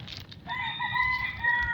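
Backyard chickens gathered around at feeding time, one bird letting out a sustained, close crow-like call after a few short clucks.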